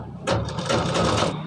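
A sewing machine stitches a Patiala salwar in one close, loud burst of rapid mechanical whirring that starts abruptly and keeps running to the end.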